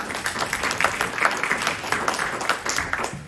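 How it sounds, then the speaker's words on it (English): An audience at a community annual meeting applauds Keith, the new CEO who opened the Youth Center, in a room. The dense, steady clapping runs throughout and stays moderately loud, with faint talk mixed in. "Keith, we take a round of applause for Keith"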